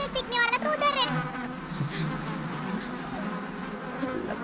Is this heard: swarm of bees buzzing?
yes